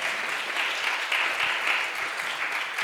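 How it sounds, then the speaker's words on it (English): An audience applauds at a talk on epigenetic clocks after a presentation by Amer Hamzeh and Dr. Olena Husak, a dense, steady clapping that holds at an even level throughout with no speech. "Okay, then round of applause to Amer and Olena."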